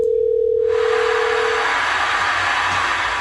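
A steady telephone dial tone on the phone lines holds alone for over a second, then a broad, loud hiss swells in and runs continuously to the end.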